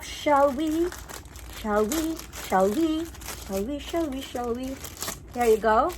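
Plastic packaging of a Kate Spade parcel crinkles and rustles in short bursts, mostly beneath a voice repeating a playful sing-song phrase close to the microphone.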